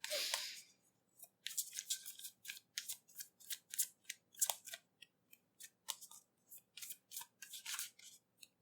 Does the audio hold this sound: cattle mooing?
no